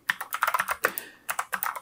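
Quick bursts of clacky keystrokes on a neo-retro mechanical keyboard, close up and crisp, with a brief pause mid-way before the rapid typing resumes.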